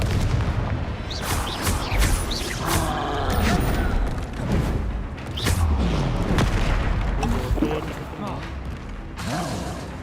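Expelliarmus spells cast in Hogwarts Legacy combat, loud booming blasts and crackling magic impacts in rapid succession, layered with mechanical creaks and game effects over ten seconds.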